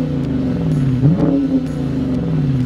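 A 2022 Dodge Challenger R/T with its 5.7-liter V8 rumbles steadily at idle, then gives one sharp rev that swells and falls back, heard up close and loud with no talking.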